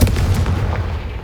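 A Confringo blasting spell explodes in the Hogwarts Legacy video game, a loud, booming burst with a heavy low rumble that rolls on and slowly fades across the brief moment.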